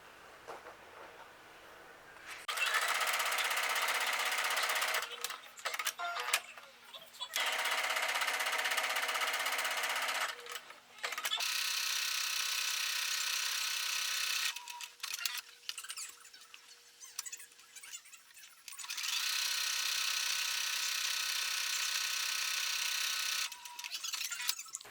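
A sewing machine quilting fabric for a tote bag, stitching in several sustained bursts of fast, even whirring and clatter, separated by short pauses, close and alone.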